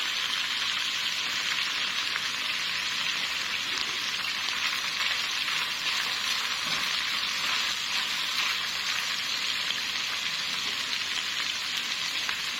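Garlic cooks gently in hot oil without browning, giving a steady, close, continuous sizzle and crackle throughout, with no voices.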